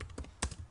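Typing on a computer keyboard while entering a location name into a form, a few quiet, close key taps in quick succession.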